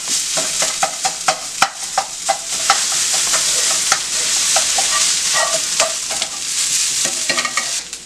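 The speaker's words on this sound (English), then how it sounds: "we're going to be cooking our fake ground beef" Vegetarian fake ground beef fries in a very hot pan, a loud continuous sizzle close by, broken by repeated scraping and stirring clicks from a utensil, with no voices.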